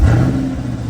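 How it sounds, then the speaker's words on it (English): The engine of a 2023 C8 Corvette Stingray starts, heard from inside the cabin: a loud, quick rising rev that settles into a deep, steady rumble. "Let's turn the car on so you can hear what it sounds like from the inside."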